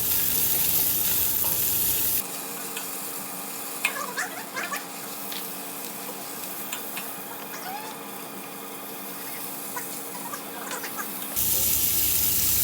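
Ginger paste and white onion fry in a pan, a steady sizzle broken by repeated scraping and stirring clinks, close and moderately loud, with no talking.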